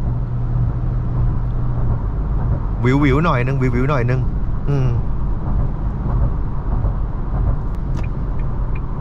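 A 2022 Isuzu D-Max X-Series 1.9 two-wheel-drive pickup cruises on the road at around 90 km/h, its engine and road noise a steady low rumble heard from inside the cab while someone talks briefly over it.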